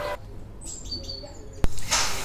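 Birds chirp in short, thin calls at garden feeding stations where woodpeckers visit, under a soft outdoor background with one sharp knock or click near the end.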